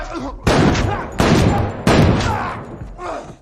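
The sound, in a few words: gunshots fired in a film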